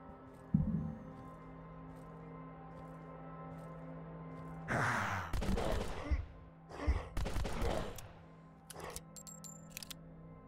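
Video game gunfire comes in several quick bursts of sharp shots, loud and close, broken by quieter gaps and a low steady hum underneath, with no talk.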